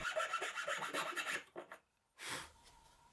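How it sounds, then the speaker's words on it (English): A chainsaw file rasps back and forth in a hole in walnut, a quick run of close, quiet scraping strokes, a brief pause, then one more stroke. "I'm just using a chainsaw file."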